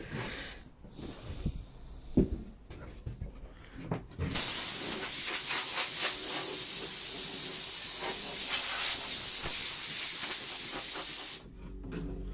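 A compressed-air blower hisses steadily for several seconds, blowing sanding dust off a painted window board, after a few scattered knocks and handling sounds; the loud, close blast cuts off sharply near the end.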